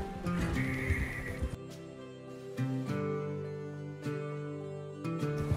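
A horse in the game Red Dead Redemption 2 lets out a loud, close whinny at the start, followed by quieter breathy snorts and faint movement.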